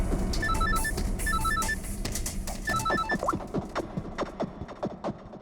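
A telephone rings in repeated electronic trilling bursts, three rings over a steady background, then footsteps and scuffling follow in a police station setting.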